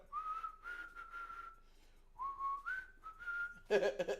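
A person whistles a simple tune in several sustained, gliding phrases with short pauses between them, ending in a burst of louder noise, during a Washington Commanders vs Pittsburgh Steelers live stream.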